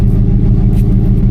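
A car idles, its exhaust leaking at a warped-flange gasket on a cobbled pipe sleeved with 2-inch EMT and fitted with a Flowmaster muffler, giving a loud, close, steady low rumble with slight puffing pulses.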